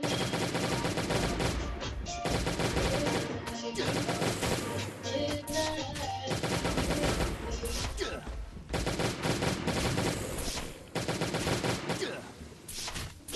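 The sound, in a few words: automatic turrets firing in Last Day on Earth video game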